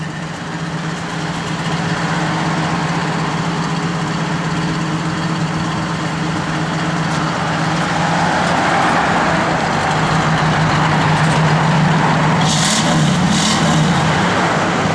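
A 1963 Buick Riviera engine runs steadily through a 2-into-1 exhaust, a close, loud, even idle rumble with a slight rise in level partway through, no voices.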